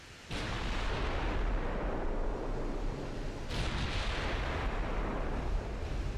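Naval guns fire in the Ultimate Admiral Dreadnoughts warship game, two heavy blasts a few seconds apart, each opening into a long, loud, rumbling roar that fills the whole stretch.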